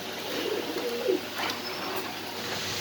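Pigeons at a pigeon farm give a few soft, low, throaty coos close by, over a quiet background.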